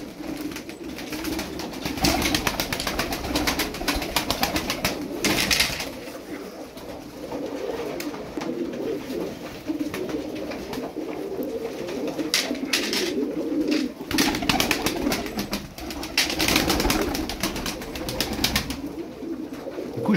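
Budgerigars calling repeatedly nearby, soft throaty calls over a steady background murmur.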